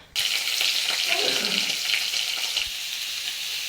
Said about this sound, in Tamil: நல்லெண்ணெய் விட்டு கடுகு ஜீரகம் போட்டிருக்கேன்.